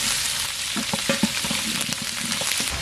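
Mustard seeds, curry leaves and green chillies fry in hot oil with a dense, steady sizzle, while scattered pops and crackles and a few stirring scrapes sound close by, with no voices.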